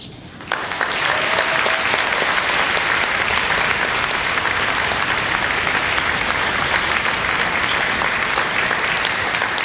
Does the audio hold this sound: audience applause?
yes